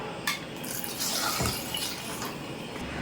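Water splashes and pours steadily into a container of kavuni rice, a continuous close liquid rush with a few gurgles and drips.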